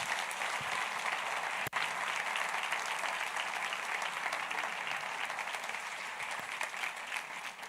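A church congregation applauding at an anniversary service, dense sustained clapping filling the room with one sharp thump partway through.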